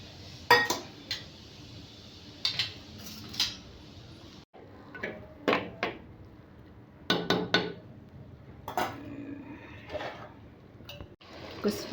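Mutton keema being added to ridge gourd curry in a pan, with repeated close metallic clinks and scrapes of a spoon against the pan at an irregular rhythm, and a low cooking hiss underneath.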